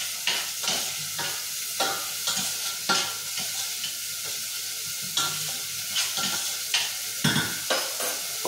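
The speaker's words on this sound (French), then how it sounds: "vous entendez que ça cuit fort" Food fries hard in a pan on a stovetop, giving a continuous loud sizzle with repeated stirring scrapes spaced through it.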